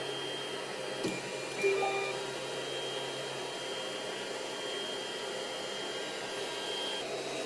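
The stepper motors of a 3D printer move, giving a steady whirring hum over the fan noise, with faint tonal whines and a couple of soft clicks near the start.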